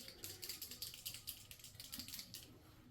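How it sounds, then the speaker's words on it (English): A small bottle of cabinet touch-up paint is shaken, giving rapid, steady rattling clicks that stay faint and close throughout. "You want to give it a little shake, just like you would a spray can."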